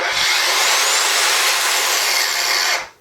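A Festool AGC 18 cordless angle grinder runs with a loud, steady high-pitched whine, then its disc brake engages and the sound drops away abruptly to silence near the end.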